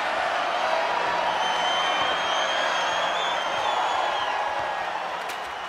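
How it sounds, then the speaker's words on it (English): Wrestling arena crowd in WWE 2K24 during a ladder match, a dense sustained roar of cheering that holds steady and eases slightly at the end, with no talk. "The sound of this crowd is deafening, and he's asking for more."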